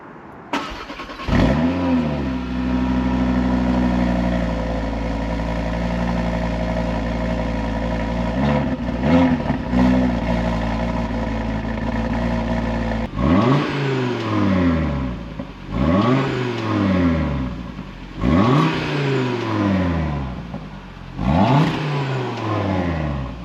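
A 2022 Audi RS3 8Y Launch Edition five-cylinder with RS Sport exhaust starts and idles, then is blipped in a series of sharp revs that rise and fall back to idle, loud and close throughout.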